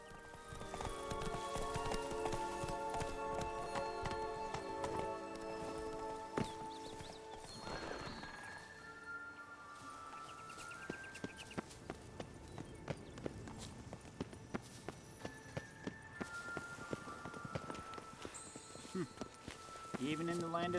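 Horse hooves clip-clop steadily in The Witcher 3, with neighing and a game music bed; people talk over the sound.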